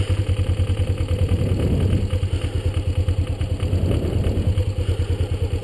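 Motorcycle engine idling with a steady low pulsing thrum and mechanical clatter as the clutch is let out and the bike begins to roll, close and continuous with no talk.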